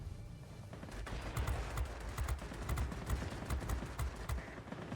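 Aircraft machine guns firing in World of Warplanes, with the F-84B in the fight, come as dense, rapid bursts of overlapping shots that stay loud and steady throughout.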